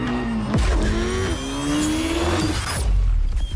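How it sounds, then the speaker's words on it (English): A car engine revs loudly in Need for Speed Unbound, its pitch climbing and dropping through gear shifts, with a brief tire squeal, a racing-game sound close and continuous. "If those engine sounds are actually in the game, then they sound really good."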